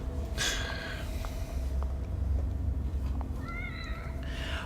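A cat meows in The Evil Within horror game, two short cries, one early and one near the end, over a low ambient rumble and hum.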